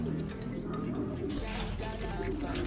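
Pigeons coo softly amid a busy, noisy loft, their low calls partly buried under steady background sound and nearby voices.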